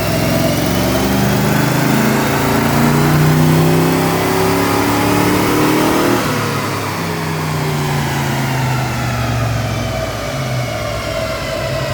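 The 302 V8 swapped into a 1986 Mustang revs hard on a dyno during tuning, a loud, close, continuous engine roar climbing in pitch before easing slightly toward the end.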